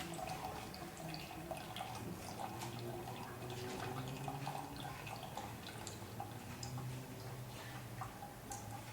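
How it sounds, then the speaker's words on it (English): Water drips steadily out of the bottom of a homemade Pythagorean cup. The drips come as rapid, faint ticks over a quiet hiss, continuous and alone for nine seconds. "the water will start dropping from the bottom"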